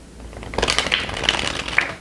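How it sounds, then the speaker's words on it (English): A tarot deck, the Orien's Animal Tarot, being shuffled by hand, giving a short close run of papery riffling and slapping card sounds with a few sharper snaps, heard alone without talk. "I'm going to show you really fast before you go how it shuffles."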